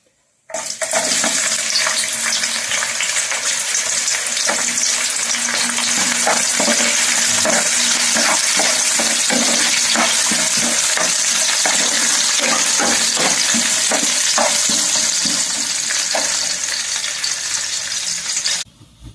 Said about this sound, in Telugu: సిమ్లో పెట్టుకుని వేయించుకుందామండి. నిదానంగా వేగితే బాగుంటాయి. మిరపకాయలన్నీ వేగుతాయి. అలాగే మనం ఉల్లిపాయలు వేసుకుందామండి.